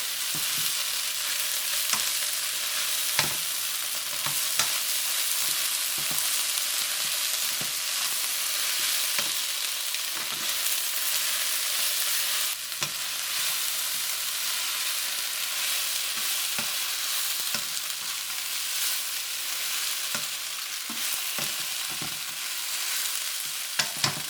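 Green onions and regular onions fry with beef in a pan, giving a long unbroken sizzling hiss with scattered clicks and taps of stirring, moderately loud and steady throughout.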